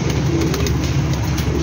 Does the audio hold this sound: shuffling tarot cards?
no